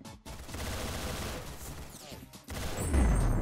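Gunfire from an MP7 in the Roblox game Arsenal, with a rapid, continuous stream of close, loud shots. The fire is broken by a brief pause, and the sound swells toward the end.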